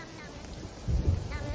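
Steady rain in a video game, a continuous broadband hiss that thickens into a heavier, rumbling downpour partway through, with no talking over it.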